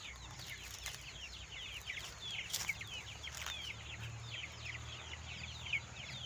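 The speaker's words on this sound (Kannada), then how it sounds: "ಅಲ್ಲಿ 100 ನಾಟಿ ಕೋಳಿ ತಂದಿದ್ದೀವಿ" Native country chickens, about a hundred month-old birds kept in a cage on a small farm plot, cluck and chirp continuously in a steady busy chorus over a low rumbling background.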